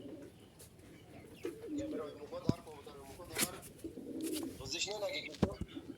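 Domestic pigeons coo in low, rolling bursts close by, with a few sharp clicks and wing or cage noises while a person talks among them.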